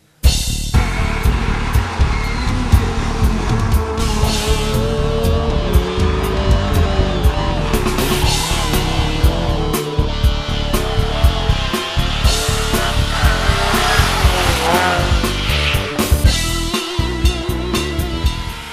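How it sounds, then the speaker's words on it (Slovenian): A Škoda Felicia rally car in the national rally championship's most popular class drives hard, its engine roaring loud and continuous with rapid gear changes and revving throughout. "ki si želi s Škodo Felicijo v najbolj množičnem razredu državnega prvenstva v ralliju priti v sam vrh"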